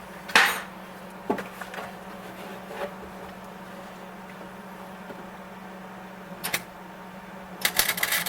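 Light taps of a hammer on sheet metal during floor pan repair on a Datsun 280ZX, a few sharp metallic knocks spaced apart, then a quick cluster at the end over a low steady hum.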